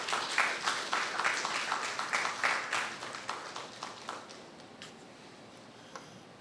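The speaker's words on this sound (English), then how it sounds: "So please welcome with a warm round of applause," An audience applauds to welcome a speaker at a University of Guyana evening event, a dense, steady round of clapping that swells in pulses, then thins out and fades to scattered claps.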